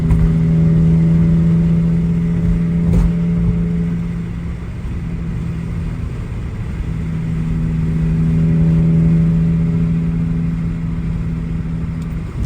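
BMW E46 car engine pulling in fifth gear, a steady droning hum heard from inside the cabin, swelling and easing slightly as the revs hold, with no talk.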